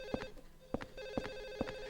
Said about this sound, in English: It certainly sounds like a phone is ringing.